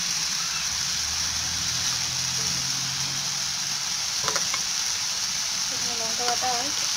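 Spices hiss and sizzle in a hot pan while cooking pui shak, a steady bright frying sizzle throughout with faint background voices and a few clinks near the end.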